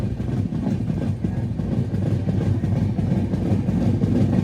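Jhelum Express passenger train running, a steady close-up rumble of wheels and carriages that holds at an even loudness throughout, with no voices.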